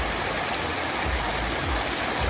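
A river stream in Clarendon, Jamaica flows continuously, a steady close rushing wash of water with no voices over it.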